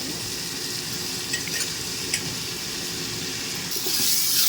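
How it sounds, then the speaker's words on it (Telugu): Handfuls of mint and coriander leaves fry in hot oil with ginger-garlic paste, giving a steady close sizzle with a few soft pops that swells brighter near the end. "పుదీనా కొత్తిమీర కూడా ఈ ఆయిల్లో బాగా వేగలండి"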